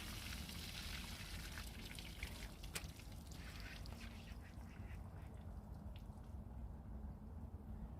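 Water being scooped and poured out of a muddy-bottomed dinghy during rain, a steady wash of splashing and dripping that carries on throughout with no talk.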